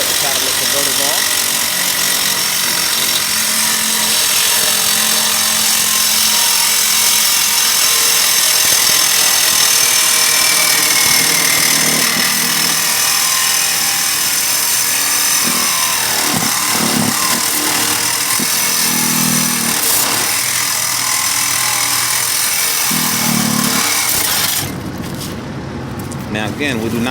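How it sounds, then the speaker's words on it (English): A power tool cuts catalytic converters off vehicles, giving a loud, continuous grinding whine with shifting pitch and engine-like rumble beneath, running for most of the stretch before cutting out near the end. "Just wanted to give you guys a quick overview of how they cut the catalytic converters off"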